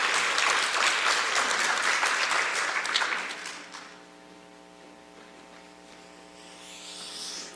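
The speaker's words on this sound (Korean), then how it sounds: "우리 목사님 보내주신 하나님께 감사와 영광의 박수를 올리겠습니다" A church congregation applauds during a Korean worship service, loud sustained clapping for about three seconds before it fades into a low hum and quiet room tone.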